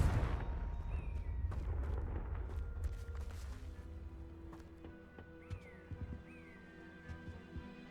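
A Confringo fire spell bursts in Hogwarts Legacy, a loud booming blast with a rumbling low roar that fades over several seconds, followed by softer in-game magical chimes and tones.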